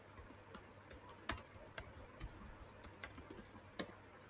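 Computer keyboard keys tapped in an irregular, sparse sequence of sharp clicks, close and moderately loud over a quiet room, no talking.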